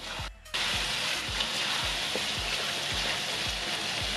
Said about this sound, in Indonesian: ini bumbu sambelnya yang tadi ditumis sudah mau tanek atau udah mau matang